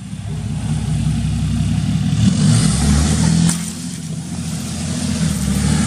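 A Cummins diesel truck engine in four-wheel drive runs loud and close, its low rumble rising into a rev and then easing back to a steadier drone.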